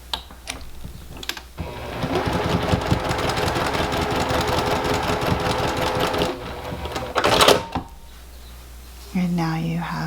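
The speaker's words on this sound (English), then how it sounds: "stitch right across the top" Sewing machine stitching straight across the top of joined fabric squares for a small bag: a close, steady mechanical whirring run for several seconds with a brief pause, then a short burst, and a voice speaks near the end.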